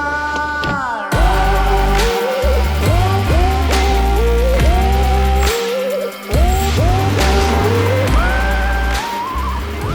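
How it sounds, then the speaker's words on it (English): A BMW E46 M3 CS engine revs loudly and repeatedly through rising gear pulls, with tires squealing near the start and brief dips as it shifts. "we're going to take the car out and we're going to give it a spin"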